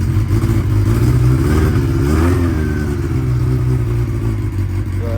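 A 1992 Honda Nighthawk 750 motorcycle engine revs loud and close, holding a throbbing, slightly uneven idle with a rising and falling surge in the middle, and no voices.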